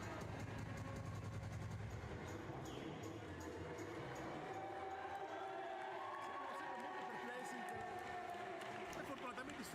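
A wrestling crowd at an Italian independent show cheers and applauds in a sustained, dense roar, with a commentator talking over it throughout.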